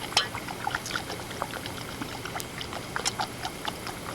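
Food poured into a pot of boiling hot water on a stove, giving a soft steady splash and bubbling with faint clinks, fairly quiet and without talk.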